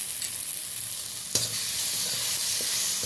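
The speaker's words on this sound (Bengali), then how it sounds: "এটা ভালো করে উল্টে পাল্টে নেড়ে নেব।" Onion and tomato with green chilli and a little turmeric sizzle steadily in a frying pan, with a sharp scrape of stirring partway through and continued frying hiss afterward, close and alone.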